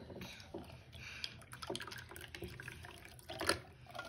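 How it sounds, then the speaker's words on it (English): Tap water runs into a container in a home kitchen, a faint, steady trickle with small splashes and a brief louder gush near the end, with people talking softly around it. "Let me put some more water in there."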